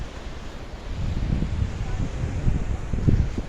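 Wind blowing over the water at Kaeng Kabao rapids in the evening, a steady broad rushing roar with low buffeting on the microphone, close and continuous without speech.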